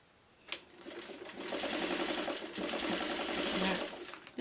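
A sewing machine stitching a partial fabric seam, quilt piecing, with a brief click, then a steady rapid whirring run of a few seconds that pauses briefly and resumes, fairly close.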